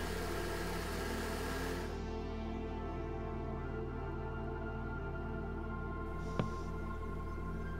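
A Märklin H0 model locomotive motor runs at high revs, giving a steady, continuous mechanical whine and hum that stays even throughout, with one brief click near the end.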